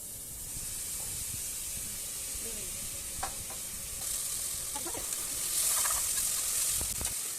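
Ginger garlic paste sautéing in a pan for country chicken biryani, with a steady sizzling hiss throughout and occasional scrapes and clinks of a stirring spoon, no talking.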